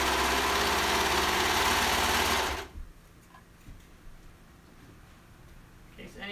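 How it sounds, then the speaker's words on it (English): A serger sewing machine finishes fabric edges on a placemat, running fast and loud with a rapid mechanical whir for about two and a half seconds before stopping abruptly, followed by quiet room sound. "What I would do to finish my edges, I just put it on the serger."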